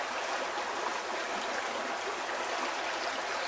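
Water flowing steadily in a creek, an even, unbroken rushing and burbling heard close up and alone, with no voices over it.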